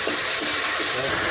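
Water is poured into sizzling fried spice paste for a fish curry, a loud close rushing hiss of liquid hitting the hot pan that drops off abruptly near the end.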